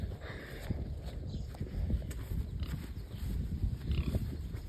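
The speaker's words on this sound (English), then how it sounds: "Yeah, this is the pigs." Pigs grunt in a low, rough, irregular run at a farm, close and fairly loud, mixed with shuffling and rustling in the pen; no talk.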